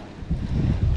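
Wind buffets the microphone while cycling on a road near Kaliraya, a close, rumbling gust that swells after a moment and keeps roaring low and rough to the end.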